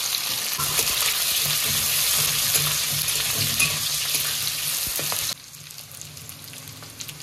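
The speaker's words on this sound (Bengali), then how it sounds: "আলু আর পেঁয়াজ একসাথেই ভাজা হতে থাকবে।" Sliced onions frying with potatoes in hot oil tempered with bay leaf, dried red chilli and whole cumin, a loud dense sizzle with stirring that drops suddenly to a quieter crackle near the end.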